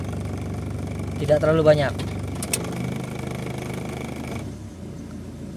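A KIA Carnival diesel engine idles steadily after the gearbox is shifted into D, a low continuous rumble with a slight dip, while someone talks over it before the engine note fades near the end.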